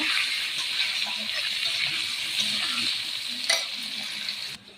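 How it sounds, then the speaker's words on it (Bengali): Potatoes frying in a pan with cumin seeds, a loud, even hiss of sizzling oil that holds steady throughout, with a brief knock near the end before it drops away. "আলুগুলোকে লাল লাল করে ভেজে নেব।"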